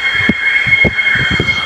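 An Airport Line train near Delta Expo hums loudly with a steady electric whine and rumble, punctuated by low thumping knocks from the wheels as it runs.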